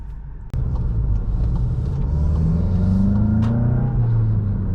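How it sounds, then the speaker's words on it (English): A 2018 VW GTI with a six-speed manual starts up loudly after a brief quiet moment, then pulls steadily with rising pitch as it accelerates, a continuous close rumble throughout. "let's go ahead and hit the road."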